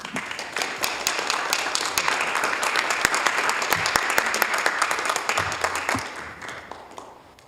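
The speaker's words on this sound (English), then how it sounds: "let's give them a big round of applause" Sustained applause from a sizable crowd at a city council meeting in Hayward, steady and dense, fading slightly toward the end.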